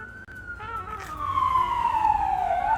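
An ambulance siren passes outside, one loud sustained wail that slides steadily downward in pitch as the vehicle goes by.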